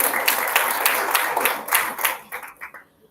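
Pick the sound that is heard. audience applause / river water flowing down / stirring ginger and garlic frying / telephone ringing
audience applause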